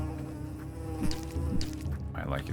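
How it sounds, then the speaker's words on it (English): A wasp in an indie video game buzzes in a steady, close drone that swells and fades over a low background hum, with no one talking. "Realistic wasp noises"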